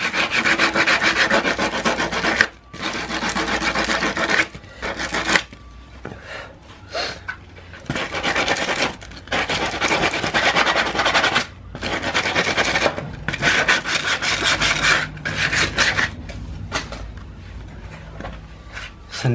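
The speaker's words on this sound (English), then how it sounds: "just going to use a standard bit of sandpaper and just sand off the edges just so that they're not sharp" Hand sanding with an ordinary sheet of sandpaper to smooth sharp edges on a tyre mudsling, with close, loud, steady abrasive rubbing strokes broken by short pauses.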